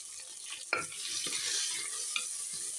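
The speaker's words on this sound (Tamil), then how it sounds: "இப்போ சின்ன வெங்காயம் பச்சை மிளகா கருவேப்பிலை எல்லாம் உள்ளே போட்டு நல்லா வதக்கலாங்க" Shallots, green chillies and curry leaves sautéing in a clay pot for sambar, a soft steady sizzle broken by a few sharp stirring knocks and scrapes, close and quiet with no talking.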